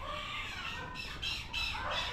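A few loud, harsh squawks from a duck, close by, coming in short bursts over a steady background murmur.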